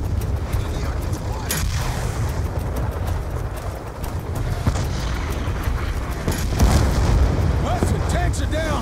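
Tanks blowing up in the video game Call of Duty: Black Ops 2, with deep rumbling booms and bursts layered over constant battle noise, loud and dense, while voices talk over the action.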